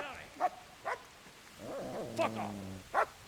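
Dog in Kingdom Come: Deliverance barking in four short, sharp yelps spaced about half a second apart, with a low whimpering, whining tone rising between them; moderately near and fairly faint against quiet game ambience.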